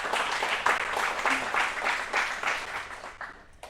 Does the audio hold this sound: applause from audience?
yes